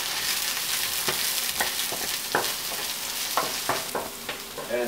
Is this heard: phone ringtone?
no